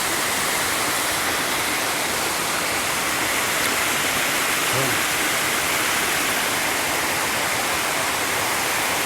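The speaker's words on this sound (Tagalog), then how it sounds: "Dito sila kumukuha ng tubig, Brad, oh." Water rushing steadily through a secret river in Rodriguez, Rizal, near a cemented section: a dense, continuous broadband roar like a small waterfall, unbroken for the whole stretch.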